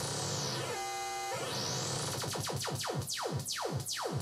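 Morphun synthesizer module output driven by a looping fast-attack, slow-decay envelope, sped up: a bright sustained noisy chord opens, then rapid repeated downward sweeps accelerate into a dense, steady stream of falling zaps, loud and without talk.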